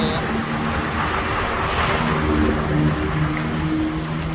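A car passes behind a cyclist riding through a flood-hit area, heard as a steady broadband roar of engine and tyres that swells slightly midway. Wind and road noise run continuously underneath.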